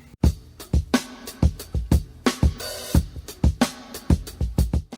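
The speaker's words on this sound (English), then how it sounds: "I've already recorded a drum break from some 70s song" A drum break lifted from a 1970s song plays alone, punchy kicks and crisp snares hitting in a tight, syncopated groove with bright cymbal wash between hits, loud and close.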